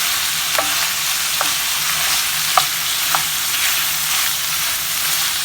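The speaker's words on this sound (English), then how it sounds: "we're just going to stir this until they get a little bit of a softening to the vegetables" Half a red onion with red and yellow peppers fries in a pan, giving an even, continuous sizzle broken by a few light scrapes from stirring, with no one talking.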